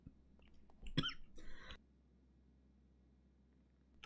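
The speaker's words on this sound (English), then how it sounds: "Sorry, I had a coughing fit." A man coughs several times in a short, harsh burst, sounding close and fairly loud, then quiet low room noise follows.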